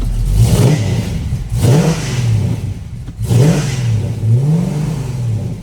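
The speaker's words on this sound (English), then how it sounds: "And let's give it a few revs here." A 1971 Dodge Challenger R/T's 440 Magnum V8 engine revs up several times in a row, each surge rising and falling with a deep throaty roar, close by with no talking.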